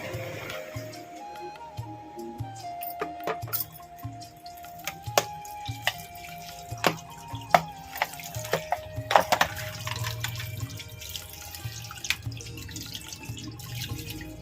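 Tap water runs onto frozen fish in a home kitchen, a steady trickle broken by sharp clinks and taps against the sink, close and fairly loud, with no talking.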